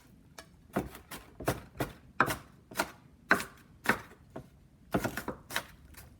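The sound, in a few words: chopping onions with a knife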